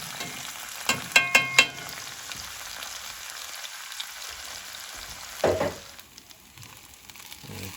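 Onions and peppers frying in a pan: a continuous close hiss of sizzling, broken by a few sharp clacks of a utensil early on and a louder burst of scraping and spattering later.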